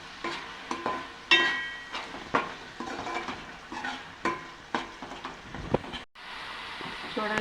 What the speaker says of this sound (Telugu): ఇదిగో ఉల్లిపాయలు వేపామంటే ఇలాగ ఆయిల్ బయటకు వచ్చేసేటట్టు వేపాలండి